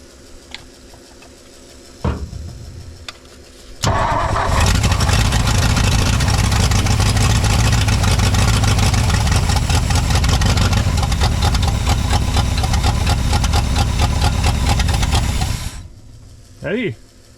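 A 1959 Ford F-600 straight truck with a Y-block engine cranks briefly, then catches and runs at a loud, steady idle for about twelve seconds before cutting off. Short voices are heard before it fires and after it stops.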